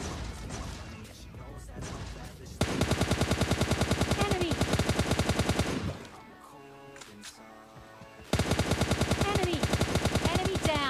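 Rapid automatic gunfire in PUBG Mobile Lite, two sustained bursts of evenly spaced shots, loud and close, with quieter game sounds and a voice talking between them.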